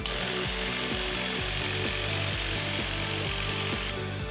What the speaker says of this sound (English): When you're ready to spray, firmly press the button and use the handle to guide the machine across the shirt.